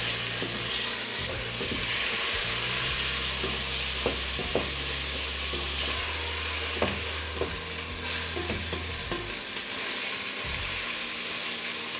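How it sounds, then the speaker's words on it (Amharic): Meat sizzles and fries steadily in a hot pan for macaroni with meat, with occasional stirring clicks and scrapes over a continuous hiss, close up and without talk. "አብሬ ደግሞ ከስጋዬ ጋር እጠብሰዋለሁ።"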